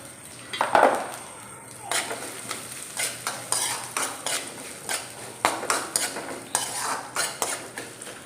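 Finely chopped coconut pieces frying in ghee for aval payasam, a steady sizzle broken by a metal spoon scraping and clinking against the pan in regular stirring strokes, with no talking.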